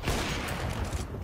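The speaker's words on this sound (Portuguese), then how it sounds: "deu um tiro no nada e teve que dar um sem mira" A single gunshot fired without aiming in the competitive video game Counter-Strike 2 during a CCT Season 2 match, a loud dense burst of gunfire filling the short moment with no talk over it.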